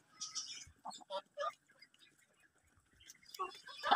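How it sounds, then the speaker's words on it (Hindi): Chickens and guineafowl shut in a pen give short, scattered squawks and clucks. The bursts are fairly faint, with quiet gaps between them and a busier cluster of calls at the end. "हमने अपनी मुर्गियों को भी बंद कर दिया है अपने गैना फॉल के साथ"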